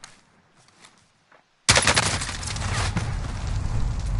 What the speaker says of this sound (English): Whole team shooting me.